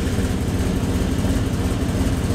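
A Nissan 240SX with a custom exhaust pulls away in first gear: a close, deep rumbling exhaust with steady low pulses, brief and unbroken.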